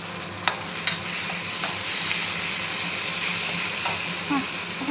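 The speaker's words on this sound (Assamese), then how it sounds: "মই লৰাই দিওঁ অলপ।" Ginger and garlic stirred in a hot pan in a home kitchen, with a steady broadband sizzle throughout and a few sharp scraping clicks from the spatula, close and fairly loud, no talking.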